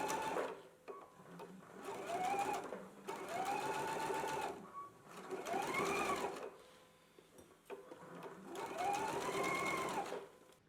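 A sewing machine stitches a collar for a McCall's M8384/8385 garment, running in four steady bursts separated by short pauses, close and fairly loud.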